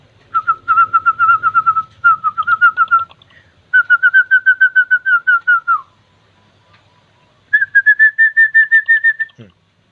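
A zebra dove gives loud, rapid trilling coos in several bursts of repeated notes, close and clear, with short pauses between phrases.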